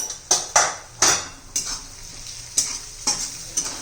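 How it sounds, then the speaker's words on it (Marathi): Homemade onion-garlic masala with coriander, cumin and turmeric powders fried in a pan for a potato curry, a soft sizzle broken by spaced spatula knocks and scrapes on the pan, close by with no talking. "आता मसाला चांगला परतून घेऊया"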